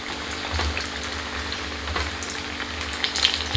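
Pinwheel samosas deep frying in hot oil give a continuous close bubbling sizzle with a low rumbling boil, steady throughout and with no voices.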